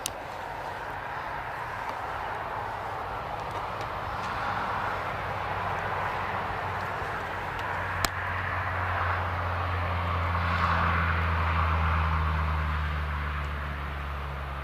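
An airliner departs Newcastle Airport on runway 25, a steady broad roar of jet engine noise with a deep rumble that swells and holds from near distance, no talk over it.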